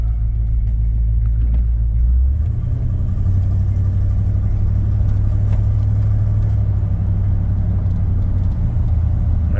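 A Squarebody truck accelerates from second into third gear, its deep engine rumble loud and steady throughout with a shift in pitch around the gear change, no voices over it.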